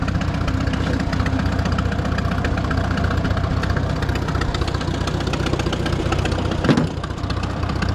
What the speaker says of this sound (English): I can already tell that this mower runs a lot quieter because of these new bearings.